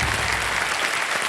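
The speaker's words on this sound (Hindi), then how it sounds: "ताली बज जाए" A studio audience on a television quiz show breaks into dense applause, loud and continuous claps filling the short moment from start to finish.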